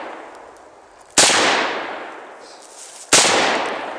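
Two sharp, loud gunshots ring out during target shooting, about two seconds apart, each with a quick decaying tail and no talk over them.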